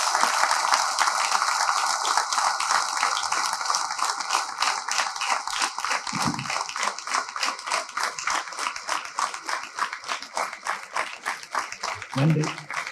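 Continuous applause from a large audience welcoming a speaker at a Tamil public talk, dense steady clapping that runs the whole stretch, loud and unbroken, easing slightly near the end.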